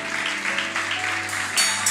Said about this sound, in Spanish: Vamos a darle un fuerte aplauso de bienvenida a la pastora